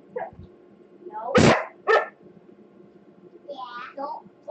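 A dog gives a couple of sharp, loud barks close by, with voices talking quietly before and after in an indoor setting.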